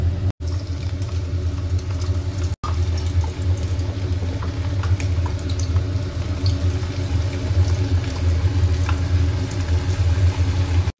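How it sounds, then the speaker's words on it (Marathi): Cornflour-coated paneer slices, seasoned with red chilli powder, black pepper and salt, fry in hot oil with a loud, steady, dense sizzle and crackle close by, over a low rumble, with no talking. "मग आता ऑइल गरम झाल्यावर"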